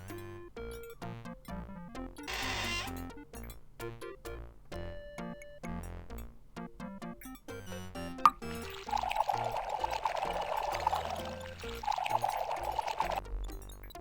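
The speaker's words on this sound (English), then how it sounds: "You carefully pour the purification solution into the town's water supply" Liquid poured into a town water supply in the Freddy Pharkas Western adventure game: a plinking musical passage comes first, then a sustained splashing pour that fades briefly and returns, moderately loud and with no talk.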